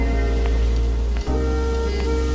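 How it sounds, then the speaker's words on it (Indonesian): Heavy rain pours steadily at night, a dense continuous hiss of drops on surfaces with a deep low rumble beneath, loud and close, briefly cutting out for a moment before resuming. "Namun di malam itu hujan turun dengan sangat deras"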